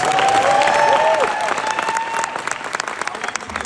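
An audience at a convention panel bursts into loud, sustained clapping with a few cheers and whoops, dense and fairly close, tapering slightly toward the end while voices rise briefly in the crowd.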